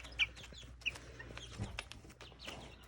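Chickens cluck softly in a farm enclosure, a few scattered short calls at a modest distance with quiet background noise and no talk.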